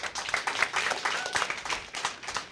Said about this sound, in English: Yes, clap her again, yes.